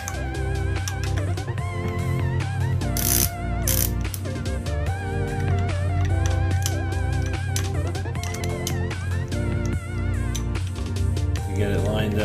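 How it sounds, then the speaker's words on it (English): Ratchet clicking steadily while tightening oil pan bolts on a 6.0L LSX engine, a rapid run of close mechanical pawl clicks with brief pauses between strokes. "all we have to do is tighten the pan bolts a little bit"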